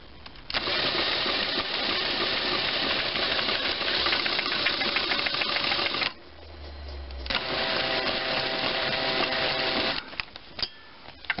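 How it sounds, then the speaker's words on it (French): Small engine with a membrane carburetor spun over by an electric drill, a steady dense mechanical whir and rattle running close and loud, briefly dropping into a low hum midway before resuming, with no talking. "ici ma perceuse, je fais tourner mon moteur"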